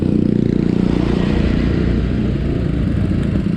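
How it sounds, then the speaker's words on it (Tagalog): A Kawasaki Vulcan motorcycle rumbles past close by on a group morning ride, a steady deep engine drone with a slight clatter that holds loud and then eases as it moves on. "Ganda ng motor ni Kuya oh. Vulcan."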